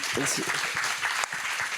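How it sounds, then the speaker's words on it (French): An audience at a hip-hop fashion talk in Roubaix applauds, a thick wash of clapping with a voice speaking over it close by. "on peut l'applaudir très fort"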